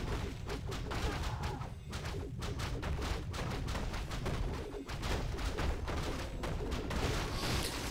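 Gunfire and artillery barrage during an attack in a real-time strategy video game, a dense rapid stream of overlapping sharp shots and booms at steady loudness throughout, with no voices.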